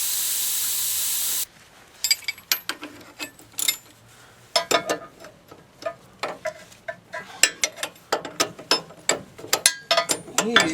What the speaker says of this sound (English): I'm gonna go grab a different wrench here. Maybe a socket to tighten it.